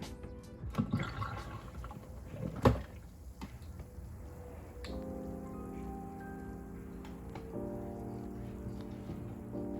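A portable mini washing machine drains water into a mop bucket, giving a trickling, splashing flow with a few clunks early on and then a steady drain hum.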